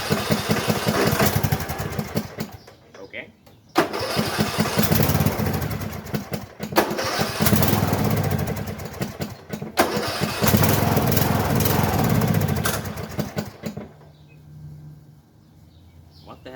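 A riding lawn mower fitted with a new carburetor starts and runs outdoors, its engine roaring loud and steady with a few brief cutouts before settling and dropping away near the end.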